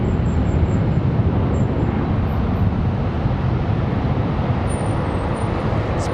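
An American Airlines plane lands on runway 36 left at Charlotte Douglas International Airport. A loud, steady roar of engines and rushing air holds throughout, with faint thin high tones above it.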